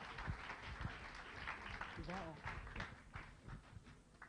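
Applause at an ethical living project grand finale, a quiet patter of hands with people talking and voices heard over it.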